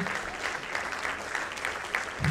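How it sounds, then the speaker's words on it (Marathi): Applause from an audience for young badminton players at a Pune district and city badminton association award ceremony: a dense, steady clapping that carries evenly through the whole stretch, with a slightly louder burst at the end. "सगळ्यांसाठी मोठ्या टाळ्या व्हायला पाहिजे"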